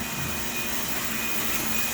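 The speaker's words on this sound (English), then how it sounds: "Go ahead and connect our shop vac." A shop vacuum rigged as a dust collector for a home woodshop runs steadily and loudly, a constant whooshing roar with a faint high whine, nearby and alone.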